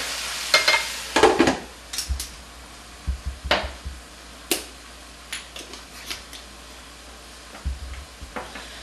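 Meat and peppers frying in a pan give a soft sizzle under repeated scraping and clattering stirs, with irregular sharp knocks of a spoon against the pan spread across the whole stretch.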